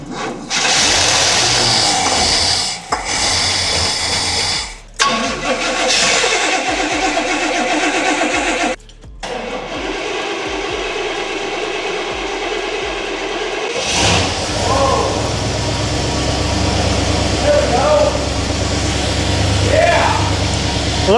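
An old car coming out of 25 years in storage cranks over in several loud bursts with brief gaps, then catches and settles into a steady running idle, with people talking over it near the end.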